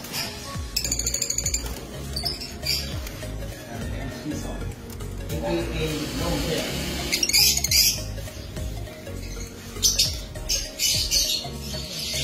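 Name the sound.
birds squawking in an aviary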